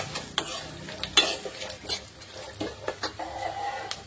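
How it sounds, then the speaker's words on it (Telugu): Green chillies frying in a pan for an ivy gourd chutney, a low sizzle under frequent clinks and scrapes of a stirring spoon against the pan, close up, with faint background noise. "ఇట్లా దోరగా వేయించుకోవాలి"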